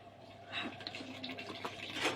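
Cold water is poured into sponge cake batter with powdered sugar in a bowl, a close, light splashing trickle that swells and fades over a couple of seconds, with no talking.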